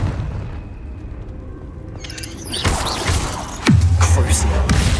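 A Confringo fire spell bursts in the Hogwarts Legacy video game, landing as a loud boom with a deep, sustained rumble midway through, after quieter game ambience and a few sharp impacts.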